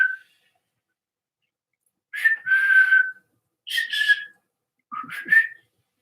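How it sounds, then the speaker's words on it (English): A person in a very dry house tries to whistle, producing three short, breathy, wavering whistles separated by silences, plus a faint opening chirp, with no talking. "Can't whistle, it's so dry in my house right now."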